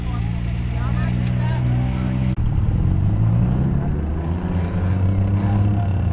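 Sedan race cars roar around a dirt speedway, loud engines rising and falling as they pass, with a public-address announcer talking over the racket throughout.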